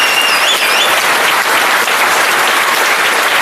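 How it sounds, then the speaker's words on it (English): Steady, dense applause from a large audience at a political rally in Watford, filling the whole stretch at even loudness with no speech over it. "enjoy that moment of the applause"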